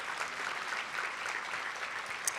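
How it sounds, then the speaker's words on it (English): An audience at a Boys and Girls Club Youth of the Year event claps for award winners, a steady, fairly soft wash of applause from a moderately distant crowd that holds throughout. "How about another round of applause to our award winners?"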